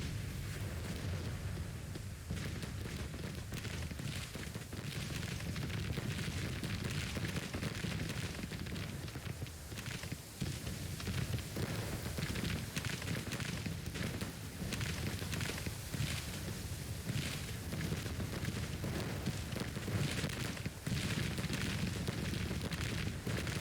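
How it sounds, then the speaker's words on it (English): Civil War cannon battery artillery fire in the Grand Tactician strategy game: a dense, steady roar of distant booms and rumbling battle noise that runs without a break, with no talking. "It's this cannon battery here which was going to do the damage."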